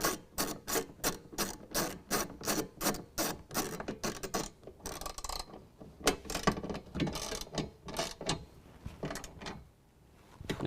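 Truck bed storage mounting hardware being tightened at the stud, with rapid rhythmic ratchet clicks in quick bursts, then sparser clicks and pauses, close and fairly quiet.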